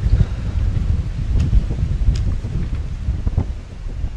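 Steady wind gusting across an outdoor tennis court during a women's singles match, a continuous low roar and buffeting against the microphone with faint rustling, no talk over it.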